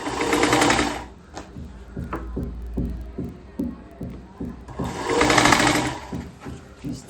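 A sewing machine stitches fabric for a kurti, two loud sustained whirring runs at the start and end with quieter handling taps and shuffles of cloth between them, close up.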